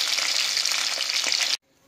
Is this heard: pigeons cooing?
no